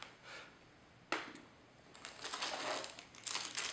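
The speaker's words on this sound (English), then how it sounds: "it's really hard to get this plastic thing off." Stiff plastic packaging crinkles and crunches as it is pried off an Olympus OM-D E-M5 camera box, with a sharp snap partway through and denser rustling toward the end, close and fairly quiet.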